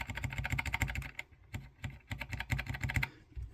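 Fingers type quickly on an Apple Extended Keyboard M0115 fitted with Alps SKCM Salmon switches, crisp clacky keystrokes in close bursts with a brief pause near the middle, alone and no talking.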